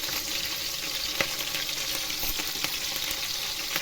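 Curry leaves sizzle steadily in hot oil in a pan while being mixed for tomato pachadi, a constant loud frying hiss with a few faint clicks, no voices.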